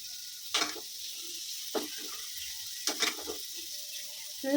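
Eggplant frying in a pan for Tamil kara kuzhambu gives short, soft bursts of sizzling and stirring at intervals over a quiet background, with no talking.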